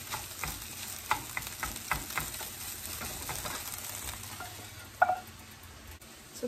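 Eggs fry and get stirred in a pan for fried rice, with a soft sizzle under scattered scraping and clinking stirring strokes, one sharper knock near the end.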